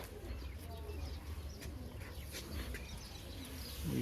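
Racing pigeons coo softly in their loft, low throaty calls repeating faintly over a dull background hum.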